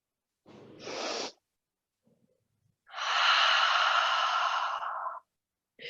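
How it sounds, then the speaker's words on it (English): Slow deep breaths during a yoga class, a short sharp inhale followed later by a long audible exhale, close and alone with silence between. "Breathe in, breathe out."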